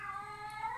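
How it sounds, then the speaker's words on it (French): A female cat in heat lets out a long, drawn-out yowling meow, close and clear, rising in pitch toward the end with no voices over it. "Donc, elle miaule pas mal."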